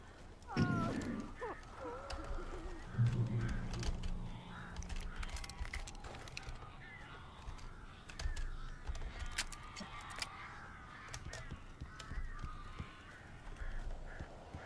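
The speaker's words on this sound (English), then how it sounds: "These birds are weird." Crows cawing in the horror video game Alan Wake, with harsh calls repeating through a dense, noisy game soundscape at moderate loudness; a voice is heard faintly at times.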